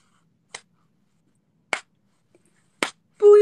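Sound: hand clapping in a vocal lesson

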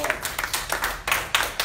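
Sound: congregation hand clapping

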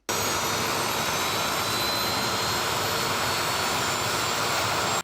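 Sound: military aircraft engine starting up

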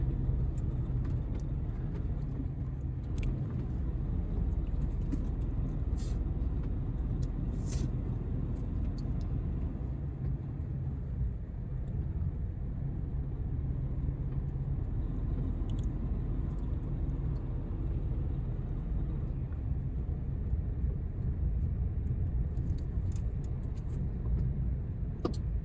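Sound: truck driving slowly over bad road

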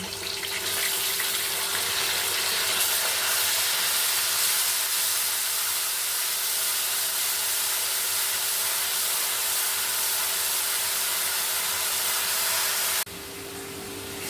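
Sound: onion paste frying in hot oil

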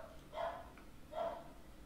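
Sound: small dog barking

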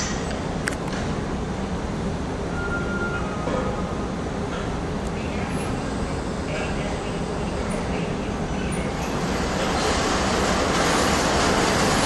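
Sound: train at main railway station platform

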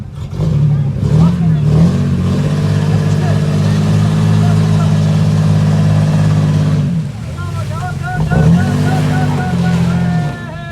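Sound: offroad vehicle engine revving on the gas

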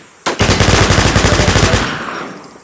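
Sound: gunfire in the video game The War Z

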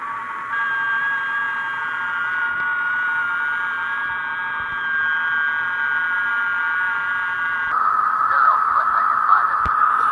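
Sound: FT8 digital radio tones

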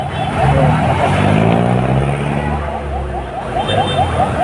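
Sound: car traffic on a Manila street

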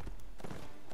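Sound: horse hooves clip-clopping in Mount and Blade: Warband video game

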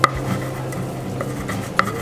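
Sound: grinding ginger in a stone mortar (cobek)

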